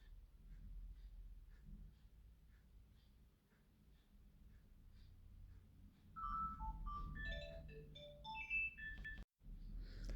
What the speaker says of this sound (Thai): เพื่อนโทรศัพท์มา